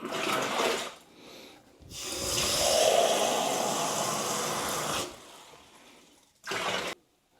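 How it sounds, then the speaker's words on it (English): Cold tap water runs into a homebrew fermenter being filled to 23 litres. Short bursts of hissing flow are followed by a long continuous pour, then pauses and one more brief burst, with no talk. "So I'm now going to fill up basically with cold water now up to 23 litres"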